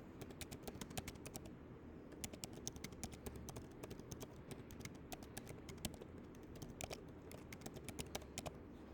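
Keys tapping steadily on a computer keyboard while a business query is typed out, with quick irregular clicks running throughout over a low background hum.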